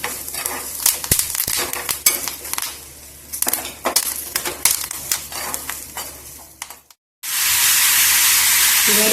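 Green chillies, ginger and curry leaves frying in a pan with scraping and stirring clatter, loud and close, then a brief gap followed by a steady intense hiss of sizzling.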